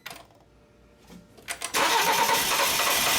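A BMW X3 engine cranks with a few short, uneven bursts, then catches and roars into a loud, steady run close by.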